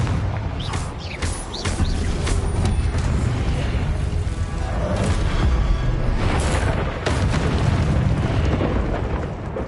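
Confringo spell explosions in Hogwarts Legacy on PS5, a loud continuous wash of booming blasts and crackling bursts that run almost without pause.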